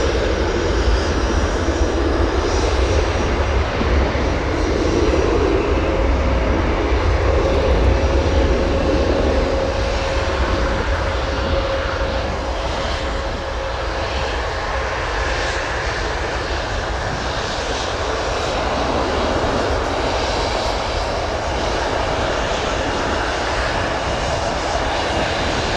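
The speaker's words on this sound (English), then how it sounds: "Got more aircraft taxiing next to us here." Aircraft taxiing at O'Hare Airport: a loud, continuous roar of jet engines close by, steady throughout with a slight rise and fall.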